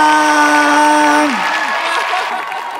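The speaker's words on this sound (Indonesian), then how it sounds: "Tepuk tangan untuk Eyang Didi Titowo semuanya" A studio audience at a televised dance competition breaks into applause. It rises as a dense wash of clapping after a sustained musical tone fades out.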